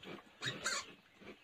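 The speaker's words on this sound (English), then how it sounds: "our fourth Mama Pig" A mother sow grunts inside a pig house, several short low nasal grunts close by, fairly quiet, with no talking.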